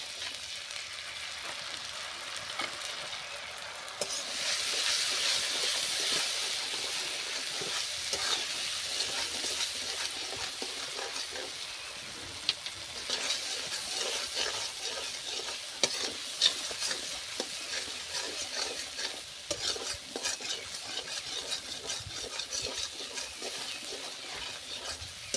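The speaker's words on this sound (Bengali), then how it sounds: "অল্প আঁচে মশলাটা ভেজে নেব।" Spice paste frying on low heat for a Bengali cabbage dish, a soft steady sizzle with frequent scraping stirs of a spoon against the pan, fairly close and fairly quiet, with no talk.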